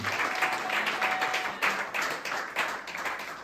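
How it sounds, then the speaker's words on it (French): A church congregation cheers and claps in bursts, a rhythmic patter of hands rising and falling several times at moderate distance, with faint voices mixed in. "Est-ce que tu peux acclamer très fort pour la gloire de Dieu?"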